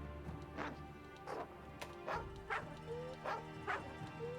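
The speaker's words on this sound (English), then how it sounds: "His bark kind of freaks me out." In Monster Hunter Rise, a hyena-like dog companion gives a series of faint, evenly spaced barks and yips, about six in all, over a low game-ambience hum.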